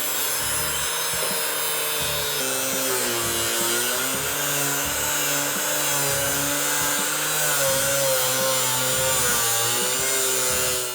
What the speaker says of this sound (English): cutoff wheel. I'm going to start off by cutting under my tape line